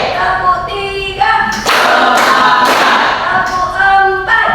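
A class doing a counted clap routine in a classroom: bursts of loud clapping break out between stretches of the teacher's voice, sharp and close, each burst lasting under a second.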